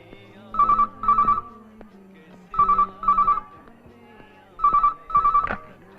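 A telephone rings in repeated double bursts of bright electronic trills, three pairs evenly spaced, loud and close, with faint background sounds between rings.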